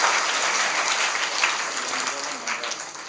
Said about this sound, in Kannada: ಜೋರಾದ ಚಪ್ಪಾಳೆಯೊಂದಿಗೆ ಆ ಪೂಜ್ಯರನ್ನು ಕೂಡ ಗೌರವಿಸೋಣ